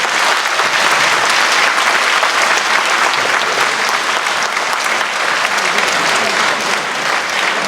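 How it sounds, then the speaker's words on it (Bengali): Loud, dense applause from a large audience fills the space without pause, a steady wash of clapping at a cultural event. "আপনারা যদি একটা আরেকটু জোরে হাততালি দিয়ে আমাদের"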